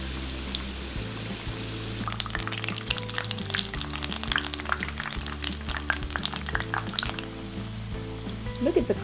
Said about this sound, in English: Start frying when the oil heat is 300 Fahrenheit for 4 minutes.